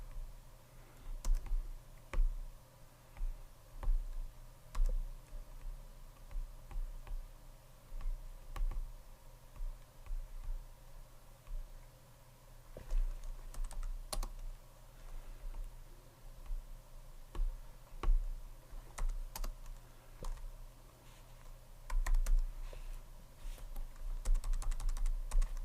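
Computer keyboard typing during XML editing in Visual Studio: irregular soft key clicks and taps come in bursts and pauses over a low steady hum, close and fairly quiet, with no voices.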